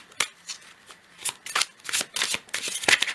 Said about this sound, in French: Prendre aussi une carte de l'oracle du soleil.